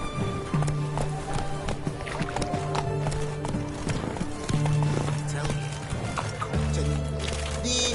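Roach, a horse in the video game The Witcher 3, gallops with steady rhythmic clip-clop hoofbeats, close and prominent under game music and ambient sound, with a snort or whinny possible amid the thudding.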